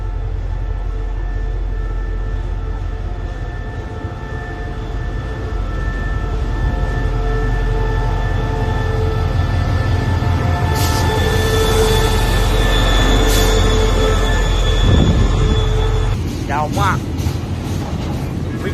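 A train runs along rails with a steady low rumble and sustained tonal hum, punctuated late by sharp metallic squeals and clanks, loud and near throughout.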